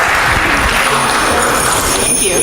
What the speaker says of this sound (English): One more round of applause for our jingle bell.